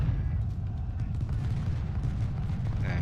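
Gunfire from a Civil War battle at Hanover Court House in the strategy game Ultimate General: Civil War: a continuous low, rumbling roar of volleys, dense and booming, with no clear pauses.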